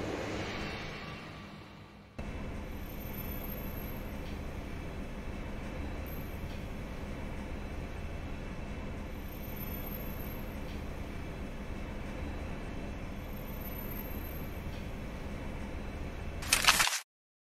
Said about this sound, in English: The train. Just in time.